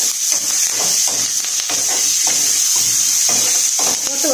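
Red chilli and curry leaves roasting in a hot pan give a steady bright sizzle and hiss, broken up by repeated stirring scrapes. A voice talks faintly underneath.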